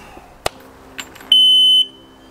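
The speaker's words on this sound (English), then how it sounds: "A single beep is it's not recognizing the key." A 2000 Sea-Doo RX DI jet ski emits a single sustained electronic beep of about half a second from its ignition, signaling that the key is not recognized, following a few faint clicks in a quiet space.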